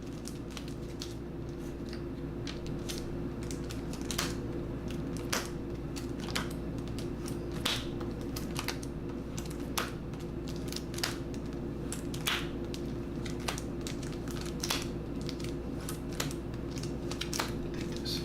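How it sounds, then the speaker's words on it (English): Board game cards being overhand shuffled, a steady series of soft, crisp flicks and riffles repeating every second or so, quiet and close over a constant low background hum. "I do an overhand shuffle, so it takes forever."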